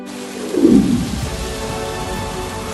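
Steady rain pours down with a dense, continuous hiss, and a brief low rumble like distant thunder swells near the start and then fades beneath the downpour.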